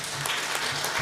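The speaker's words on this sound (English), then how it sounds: "A round of applause." Applause from a seated audience at a Kenyan environmental and public health officers summit, a steady wash of clapping that fills the brief moment as a speaker is invited to the stage.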